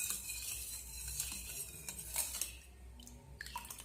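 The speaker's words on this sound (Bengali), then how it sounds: "চিনি আর বিট লবণটা এই জুসের সঙ্গে ভালো করে এইভাবে মিশিয়ে নিতে হবে।" A spoon stirs sugar and black salt into juice, giving a steady soft swishing with light clinks against the container, close and quiet, without speech.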